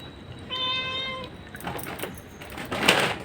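A cat meows once, a clear high drawn-out call close by, followed by faint rustling and handling noises.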